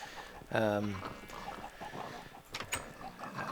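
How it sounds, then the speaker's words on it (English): Chickens on a video game farm, a few short clucks and squawks, fairly faint and intermittent, with a person talking over them. "You can hear chickens."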